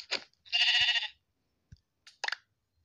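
Sheep bleating close by, one long wavering bleat between shorter calls, set among quiet gaps with a few faint clicks.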